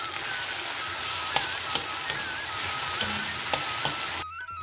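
Potatoes and ground spice paste sauté in hot oil for Bengali alu vada, making a close, dense sizzle. Occasional stirring clicks come through before the sizzle drops away at the end.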